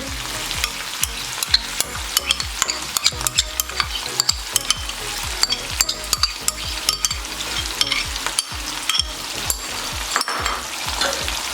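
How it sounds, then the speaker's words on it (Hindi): Mutton karahi sizzles loudly in a pan as yogurt goes in, with a steady frying hiss and repeated scraping strokes of a spoon stirring the meat. "अब इसमें 1/2 कप दही ऐड करेंगे।"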